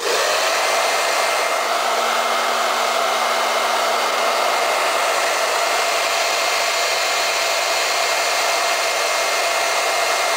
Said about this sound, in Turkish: Elimde de şöyle bir saç kurutma makinesi var. Evet Orta ayarda alıyorum.